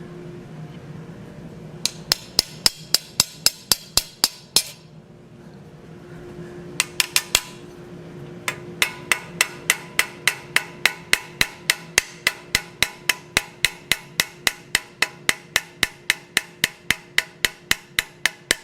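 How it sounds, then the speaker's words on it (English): Hot steel held in a vise is peened with the peen of an 8-ounce hammer, giving a long run of rapid, evenly spaced sharp metallic strikes, close and loud, with a brief pause partway through and a faint steady ring underneath. "You want to use the peen of the 8-ounce hammer."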